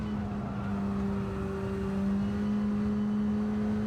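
A Bac Mono race car in Gran Turismo 7 holds a steady, loud engine drone in fourth gear on the Tokyo Expressway, a sustained buzzing tone with no breaks.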